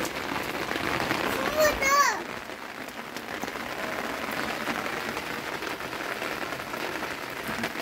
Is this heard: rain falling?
yes